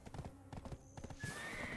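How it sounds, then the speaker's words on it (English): Horse hooves clip-clopping in a steady trot in the online role-playing game Black Desert Online, followed by a loud neigh near the end, with faint background ambience. "I'm going to leave my horse down here."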